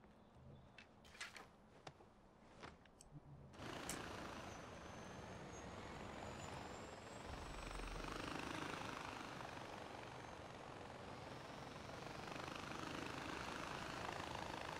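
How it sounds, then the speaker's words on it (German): Rotor and engine drone of a gyrocopter in the video game Far Cry 4, starting with scattered clicks and bumps, then settling into a steady, fairly quiet mechanical whir that carries on without a break. "dann wollen wir mal dem Schmuggler schön mit dem Helikopter folgen. Hier aus luftiger Höhe."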